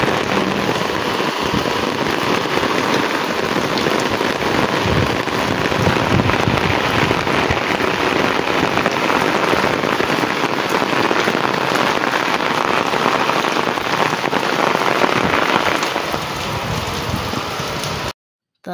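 Heavy rain pours down in a loud, dense, unbroken patter of drops striking surfaces nearby. It holds steady for about eighteen seconds before cutting off abruptly.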